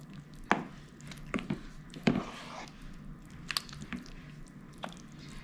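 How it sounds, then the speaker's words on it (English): Beef-flavored gravy being stirred in a pan for a smothered pork roast, giving soft wet squishes and scattered utensil clicks at an irregular pace, close and moderately quiet. "Just gonna stir this around some."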